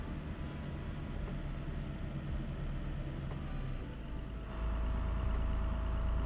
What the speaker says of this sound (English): I drive a really loud straight piped truck through here.